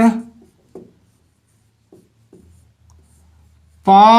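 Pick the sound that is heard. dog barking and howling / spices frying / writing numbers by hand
writing numbers by hand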